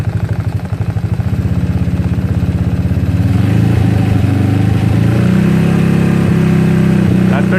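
A GY6 scooter engine idles with a steady putter, then revs up and holds at a higher, louder pitch, close and dominant throughout.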